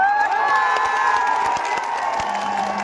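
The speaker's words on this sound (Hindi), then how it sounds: "इतनी कमजोर ताली से काम नहीं चलेगा।" A large crowd at an outdoor election rally on the Sirsi ground in Chakulia claps and cheers continuously, loud and dense, with scattered whoops and shouts rising over steady applause.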